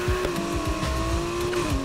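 A car engine in Need for Speed Heat drives down a cliff, heard as a steady engine tone with a sliding pitch and tire squeal, loud and close with no talking.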